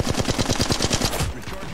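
Rapid automatic gunfire in a video game, a fast burst of about a dozen evenly spaced shots over a second, loud and close, followed by a short tail of lower mechanical noise.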